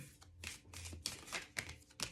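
Large tarot cards being shuffled by hand, giving a quiet run of papery riffles and soft slaps in irregular bursts, close to the microphone with no talking.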